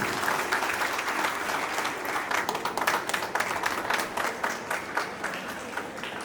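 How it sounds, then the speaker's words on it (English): A school crowd at an Independence Day celebration applauds the winning house, brisk dense clapping sustained for about six seconds at fairly even strength. "So a round of applause for the winning house"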